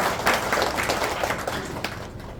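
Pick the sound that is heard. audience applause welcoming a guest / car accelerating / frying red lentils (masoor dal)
audience applause welcoming a guest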